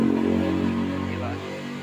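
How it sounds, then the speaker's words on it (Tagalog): A loud motorcycle exhaust drones steadily nearby in Bulacan, Philippines, its low rumble holding even and loud throughout. "Grabe ang ingay ng mga tambuto ng motor dito sa Bulacan."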